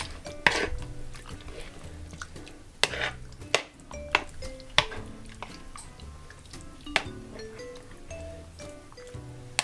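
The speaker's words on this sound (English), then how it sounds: "So make sure you give it a good stir in." Sesame sticky chicken wings stirred in a bowl bring repeated clinks and scrapes of a utensil against the dish, irregular sharp knocks over a soft wet mixing sound, close and with no talking.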